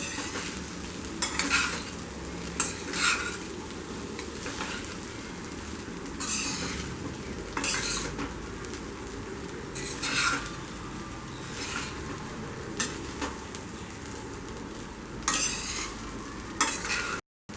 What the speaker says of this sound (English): just gently give folds and mix everything well